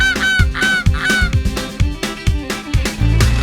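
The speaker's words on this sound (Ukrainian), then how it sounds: "Це гуса." A goose honks over and over in a steady rhythm, layered over a bouncy children's song backing with a regular beat.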